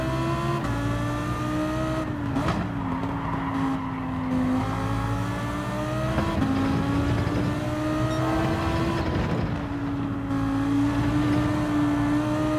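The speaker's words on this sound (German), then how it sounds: "jetzt gib doch mal Gas hier" A race car in Gran Turismo 7 at Laguna Seca drones at high revs, its engine note climbing and dropping through gear changes, loud and continuous with occasional tire noise.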